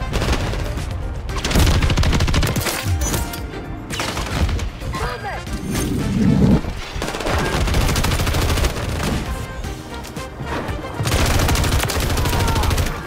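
Rapid gunfire bursts and bursts of automatic fire crackle through a shooter video game match, dense and continuous across the stretch with layered shots and occasional booms, while players talk over the action.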